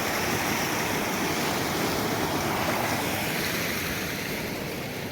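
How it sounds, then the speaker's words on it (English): A spring stream flows through wet woods in rain and wind, a steady, dense rushing wash that stays loud and unbroken throughout, close by, with no voices. "These are all spring streams,"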